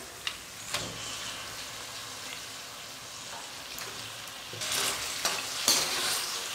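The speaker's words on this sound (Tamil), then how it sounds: "சிக்கனை நல்லா ஒரு 10 நிமிஷத்துக்கு நம்ம தீ கம்மியிலேயே வச்சுட்டு நல்லா வதக்கணும்." Chicken pieces frying in a spiced masala over a low flame, with a steady soft sizzle and several scraping stirs of a spoon against the pan, close up and louder near the end.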